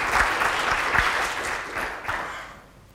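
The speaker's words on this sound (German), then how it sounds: "Und wie immer hilft es dem Referenten, mit einem kleinen Applaus zu starten." A brief round of polite applause from a lecture audience at a colloquium, moderately loud at first and then thinning out and fading toward the end.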